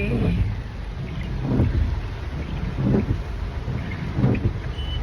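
Heavy rain pours onto slow, jammed traffic near Gachibowli in Hyderabad: a steady, dense wash of rainfall over low rumbling engines, with a few swelling surges of passing vehicles through the downpour.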